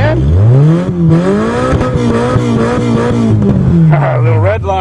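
A Toyota engine revs hard toward redline after a cold start in snow, a loud rising and falling engine drone throughout, with a person talking excitedly over it.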